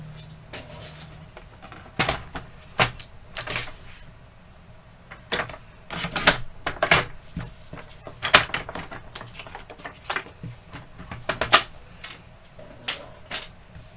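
A paper trimmer cuts patterned craft paper, leftover from a 15 by 15 sheet, down to 14 centimetres, giving a series of sharp close clicks and slicing strokes at an uneven pace in an otherwise quiet room.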